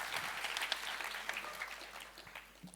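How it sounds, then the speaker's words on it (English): Audience applause at an Innovation Labs demo day: a short burst of many hands clapping in a hall, fairly faint and fading slightly toward the end. "a big round of applause for them"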